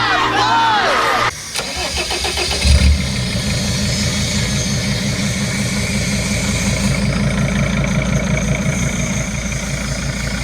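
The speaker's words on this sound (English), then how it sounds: "Bus driver, move that bus!" A bus engine cranks and catches, then settles into a loud, steady rumbling idle that runs on continuously without pause.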